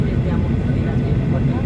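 Airplane taking off on a trip to Spain, a steady, dense engine roar with a low rumble that holds at an even level for the whole short stretch.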